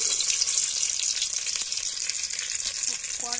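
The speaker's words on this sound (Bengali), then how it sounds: "তেলটা দিয়ে দিলাম লঙ্কা, পেঁয়াজ" Onion and chili fry in hot oil in a wok on a stove, giving a steady, loud, close hiss of sizzling that continues through the whole clip, with a few faint clinks near the end.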